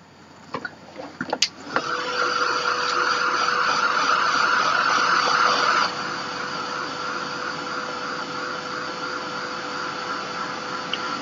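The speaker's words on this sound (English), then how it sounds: "I want to uh, hit this with the heat gun again" A heat gun blows steadily over a spray-ink art journal page, a loud continuous whooshing hiss with a steady whine that starts after a few handling clicks and drops slightly in level midway, with no talking.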